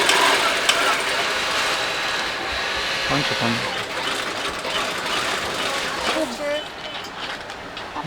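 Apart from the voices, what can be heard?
sewing machines running in a market clothing workshop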